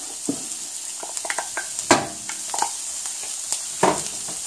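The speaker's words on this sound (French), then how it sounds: "On va mettre le persil et l'ail." Parsley and garlic sizzle in a hot paella pan, a steady frying hiss broken by the scrape and clink of stirring, with sharper bursts of spatter now and then, close and alone without voices.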